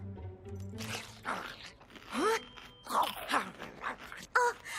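A small cartoon dog eats noisily, with crunching bites and chewing sounds close by, broken by a few short whimpers.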